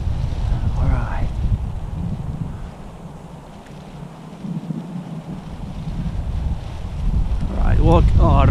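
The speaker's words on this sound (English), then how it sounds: "That's some crazy wind up there" Strong, gusty Santa Ana wind at a local park batters the microphone with a deep, fluctuating rumble that dips briefly and then surges again, and a person speaks faintly at the start and at the end.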